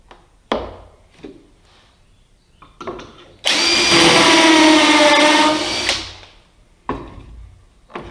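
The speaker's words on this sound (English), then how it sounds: "I'm going to attach the table jig directly to the tabletop using pocket screws." A power drill drives pocket screws into a tabletop, with one loud sustained whirring run of about two and a half seconds that winds down, set between scattered knocks and handling of wood and tools, close up.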